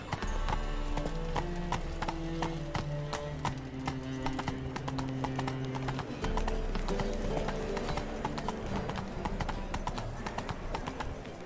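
Horse hooves clip-clopping at a steady galloping rhythm in The Witcher 3: Wild Hunt, a continuous close drumming of hoofbeats with a brief neigh, heard alone without talk.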